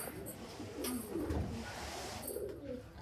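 Punjabi Malwai pigeons coo softly and steadily over a dense, continuous background hum, with a few faint higher chirps, close by and without talk.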